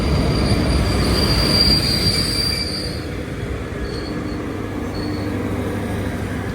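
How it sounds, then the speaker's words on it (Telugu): Indian passenger train hauled by a WAP-5 electric locomotive with LHB coaches, a loud steady rumble of wheels on track with a thin squeal running over it, close by and continuous throughout. "వ్యాప్ 5 లోకోమోటివ్ LHB కోచెస్."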